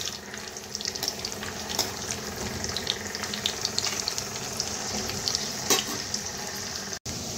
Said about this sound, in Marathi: आपल्याला आता हे लसणाच्या पाकळ्या थोड्याशा व्यवस्थित फ्राय करून घ्यायच्या आहेत